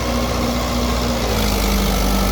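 Mahindra 575 XP Plus tractor engine running steadily at close range, a continuous loud low drone with a faint tonal hum throughout.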